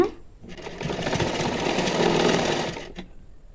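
A sewing machine stitching a folded half-inch hem runs in one loud, steady burst of rapid mechanical whirring for about two and a half seconds, then stops abruptly.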